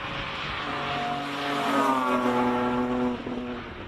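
A Porsche 993 Carrera RS on a 1.8 km hill-climb course at a classic car speed event, its engine note rising and swelling as it passes at a distance, then dropping away.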